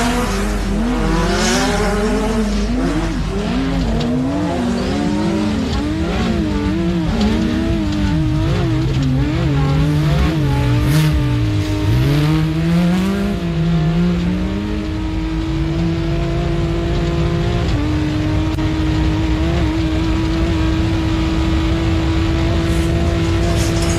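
A race car at the Loveday 400 race sweeps through a corner, its engine loud and close, pitch rising and falling with gear changes and throttle, then settling into a steady high drone.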